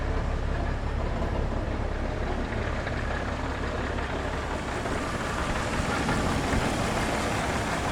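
A stock 4.0-liter engine in a two-door Jeep XJ with a five-speed runs at a steady idle: an even, continuous low rumble with no talk, unchanging for the whole stretch.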